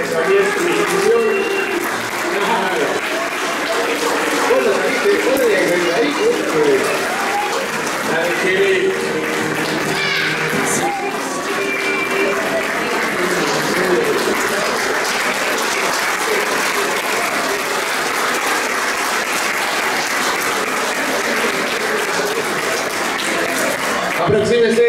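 Sustained audience applause fills an anniversary ceremony honoring a 1974 championship team, steady and dense clapping from a crowd with voices mixed in throughout.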